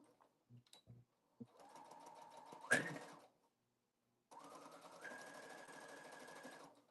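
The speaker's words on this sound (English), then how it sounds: "So I'm just going to go back and sew that." Sewing machine stitching over a seam in two bursts of steady mechanical whirring with a sharp clack between them, preceded by a few small taps, quiet and close.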